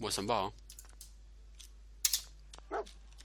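A dog companion in the video game Fallout 4 barks in a few short, sharp bursts amid game sounds, with someone speaking briefly near the start.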